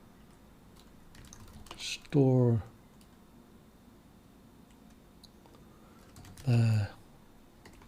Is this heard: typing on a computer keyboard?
yes